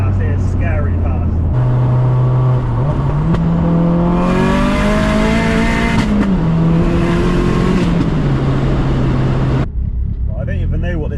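A modified 552bhp Vauxhall Astra VXR, heard from inside the car, pulls hard through the gears, its loud engine note rising and then dropping at each flat-foot shift before climbing again, with a whooshing burst mid-pull.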